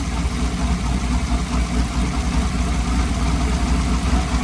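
A car engine fitted with new exhaust headers idles steadily and close up, a constant low rumbling burble with no revving and no voices.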